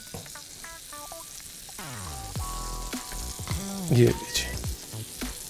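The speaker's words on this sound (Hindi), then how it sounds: "मैं ब्रेड को सेक लेता हूँ, टोस्ट कर लेता हूँ तवे के ऊपर मक्खन में" Bread toasting in butter with garlic on a tava gives a steady close sizzle. A voice speaks briefly, and tonal music plays over the frying.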